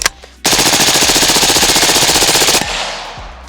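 Suppressed AR-style rifle firing a long, loud, rapid automatic burst at steel targets outdoors, a dense even stream of shots lasting about two seconds before the echo trails off.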